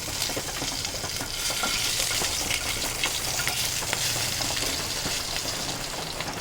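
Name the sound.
frying whole spices, green chilli and cumin in oil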